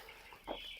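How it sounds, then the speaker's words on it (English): Broiler chickens inside a poultry house give a brief, faint cluck over a steady low hum of the shed. "Check on our chickens."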